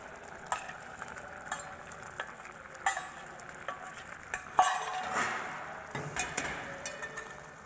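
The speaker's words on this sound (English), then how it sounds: "Now we are going to add ojuki beans into rice." Adzuki beans go into rice cooking in a pot for Japanese cooking, with soft stirring scrapes, faint sizzling and occasional utensil taps against the pan, fairly quiet throughout.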